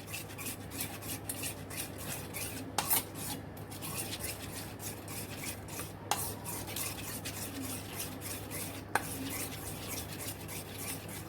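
A spoon whisks yogurt in a bowl with a continuous, quiet scraping and swishing rhythm over a steady low hum, broken now and then by a faint tap against the side.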